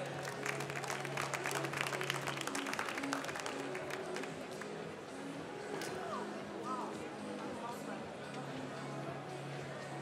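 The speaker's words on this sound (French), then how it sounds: "on l'applaudit bien fort, on l'encourage s'il vous plaît" A crowd at a barista competition, the Open Brewers Cup France at Sirha 2019, applauds a competitor, a dense clapping wash mixed with crowd chatter and a steady hum, tapering after a few seconds.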